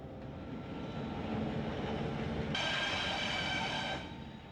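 The Potomac Eagle passenger train rumbles steadily and loudly, with a bright, harsh high-pitched wheel or brake squeal cutting in partway through and then fading, and no voices.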